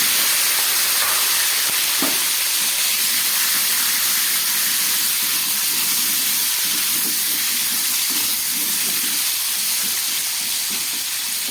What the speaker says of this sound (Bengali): এবার আলুটাকে আমি একটু ভেজে নিই